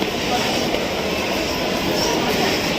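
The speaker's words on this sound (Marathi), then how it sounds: "माझी ट्रेन लागली आता कर्जत लागली" A Mumbai local train to Karjat arrives at Ghatkopar station, rumbling loudly and steadily nearby, a dense continuous roar of wheels and motors filling the air without a break.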